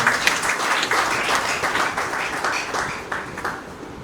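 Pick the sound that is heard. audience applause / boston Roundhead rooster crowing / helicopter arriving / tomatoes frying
audience applause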